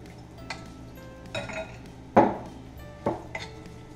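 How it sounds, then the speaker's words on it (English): Shrimp tipped back into a pan of tomato sauce for a shrimp, tomato and basil pasta, a few clinks and scrapes of utensil against the pan, one sharper clatter in the middle, close and without talk. "The sauce in. Shrimp goes back in."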